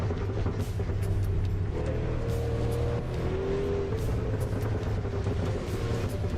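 Racing car engine in Assetto Corsa, a steady loud drone with a low rumble and rising, shifting engine tones that swell and ease as the car drives on, with no speech over it.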